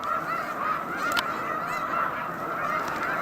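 Snow geese on Cayuga Lake keep up a steady mass of honking, many overlapping calls blending into a constant chorus with an occasional sharper nearby cry.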